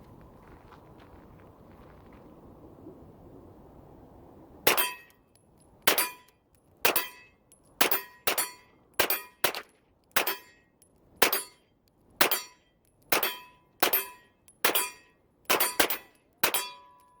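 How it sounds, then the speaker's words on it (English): A Ruger 9mm carbine fires shot after shot at steel targets 25 yards away, each sharp report followed by a ringing clang. About a dozen evenly spaced shots follow a few seconds of quiet outdoor ambience. "Shooting this carbine with the Glock magazine conversion that it comes with is fantastic. Low recoil, so accurate. Let's take some shots."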